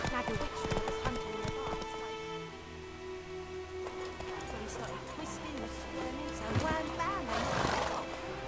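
Roach the horse galloping in The Witcher 3, hoofbeats clip-clopping with a whinny near the end, mixed under game dialogue and music.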